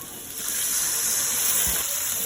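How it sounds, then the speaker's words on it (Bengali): Water poured into a pan of browned frying onions gives a loud, continuous hissing gush that holds steady for the whole moment, with no talking. "এখন আমি একটু পানি দিয়ে দিচ্ছি।"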